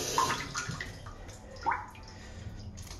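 Water runs and trickles steadily into a toilet tank refilling after a flush, a continuous near hiss with a couple of brief gurgles and no talk.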